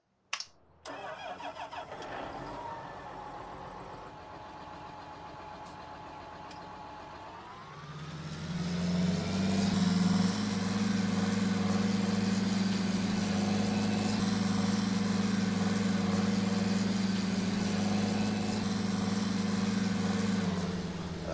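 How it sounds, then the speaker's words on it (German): A John Deere 524K wheel loader engine in Farming Simulator 19 cranks and catches, then settles into a steady, loud, low idle rumble that continues alone without any talking. "Hören wir mal auf den Motor."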